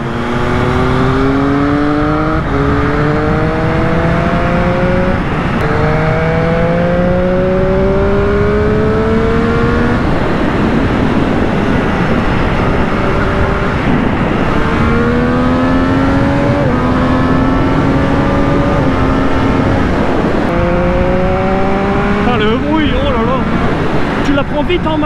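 Riding a Triumph Street Triple 765 RS, the triple engine rises and falls through repeated gear changes, strong and near, with steady wind buffeting throughout.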